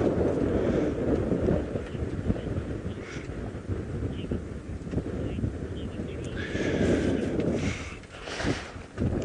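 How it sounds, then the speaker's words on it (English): Strong wind gusts during an evening safari drive, blowing dust with a steady loud rush and buffeting across the microphone, swelling again near the end. "That is strong wind today."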